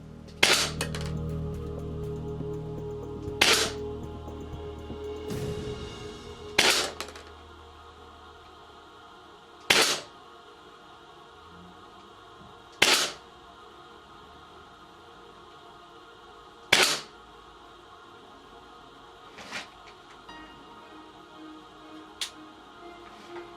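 GBLS DAS limited edition M4A1 gas blowback rifle fired at a target about 30 feet away, seven sharp single shots spaced a few seconds apart with short decays, over a quiet room after a brief low rumble at the start.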